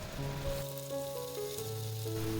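Boiled papaya flowers go into a cooked spice paste and fry with a soft, continuous sizzle, heard faintly under steady tonal background sounds.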